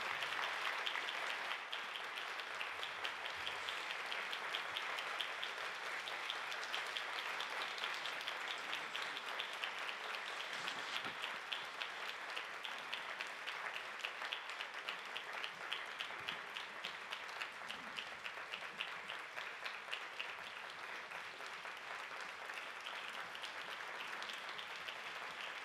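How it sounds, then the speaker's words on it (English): A forum audience gives a long, steady round of applause for the panel speakers, dense clapping holding at an even level for about twenty-five seconds with little variation and no speech. "join me in thanking all the members of the panel speakers with a round of applause"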